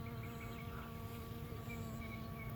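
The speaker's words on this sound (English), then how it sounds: "the bees are loving this pollen, which is good." Bees buzz steadily around flowering plants in a South Florida garden, a continuous close insect drone with no talk.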